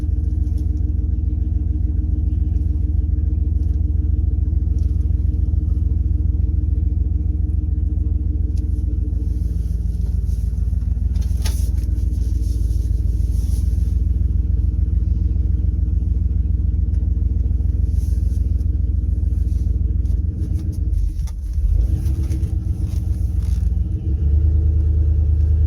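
A second-generation 1500 pickup with its catalytic converter deleted runs on open headers, a loud, deep, steady exhaust rumble close by with a brief dip and rise in engine note near the end.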